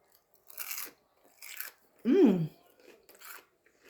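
Close, crisp crunching bites of homemade fried mozzarella sticks come in several short bursts, with a brief murmured vocal sound between them.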